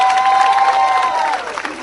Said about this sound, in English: there the applause is already on